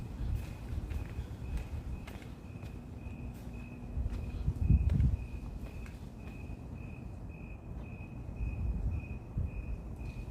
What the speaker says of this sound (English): As you hear the crickets waking up.